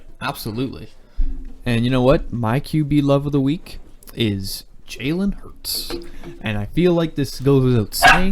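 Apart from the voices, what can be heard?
dog barking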